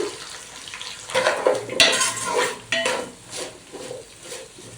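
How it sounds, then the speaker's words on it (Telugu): Bottle gourd pieces with turmeric and salt being stirred and fried in a pan for sambar, a loud close sizzle with scraping utensil strokes against the pan in uneven bursts. "అందులోనే సొరకాయలు కూడా వేసుకున్నాము అవి కొంచెం పసుపు వేసి వేగనిద్దామండి"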